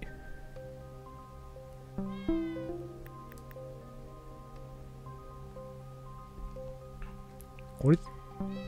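Cats meowing in the video game Hidden Paws, several short meows and one longer wavering cry, heard under someone talking over the game.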